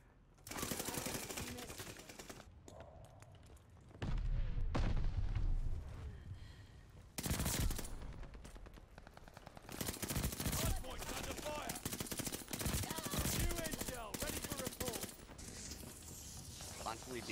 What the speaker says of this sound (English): Constantly being shot by someone I can't see.